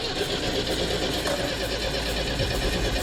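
An MGB engine turns over steadily on the starter during a compression test, a continuous close mechanical churning with a faint rhythmic pulse that runs unbroken for the whole stretch, no voices over it.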